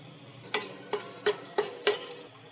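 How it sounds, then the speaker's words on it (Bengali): Poppy seed paste for aloo posto is stir-fried in oil in a pan, giving five evenly spaced scraping strokes over a faint, quiet sizzle. "এবার দিয়ে দেবো পোস্ত বাটা, দিয়ে এরপর 1 মিনিট এইভাবে কষিয়ে নেব।"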